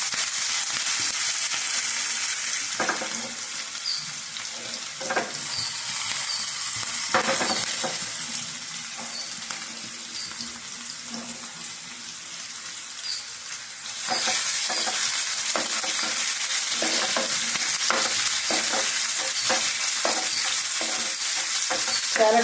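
Tempering spices with cumin fry hard in hot oil for a leafy greens dal, a loud continuous sizzle with dense crackling and popping that swells and eases over about twenty seconds and then grows busier and sharper, with no voices.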